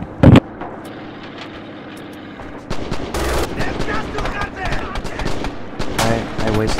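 Gunfire and grenade blasts in the Red Orchestra war game: one sharp explosion early on, then a dense, continuous rattle of rifle and machine-gun fire with booms, loud and close, with voices under the battle.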